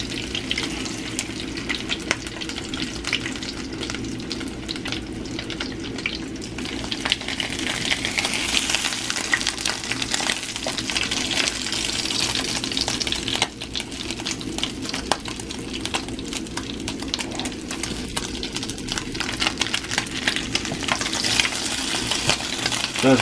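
French toast frying in butter in a hot pan, edges crisping, gives a steady close sizzle and crackle that runs without a break, with small spits and pops on top and no talking.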